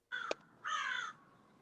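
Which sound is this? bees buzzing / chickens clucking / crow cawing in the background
crow cawing in the background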